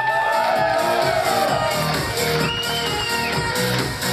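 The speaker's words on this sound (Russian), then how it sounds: "Ваши аплодисменты!" Live show audience in Astana at the "Odin v Odin" performance cheering and whooping, a dense loud wash of crowd noise and shouts holding steady throughout.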